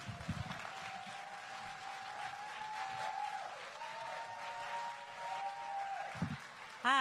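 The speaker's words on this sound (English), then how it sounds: "So please give it up for this young person and keep clapping until she makes it to the mic" Audience applause for a young performer walking to the mic at a spoken-word event, steady moderate clapping through the whole stretch, with a tonal whine running across it and a louder burst at the very end.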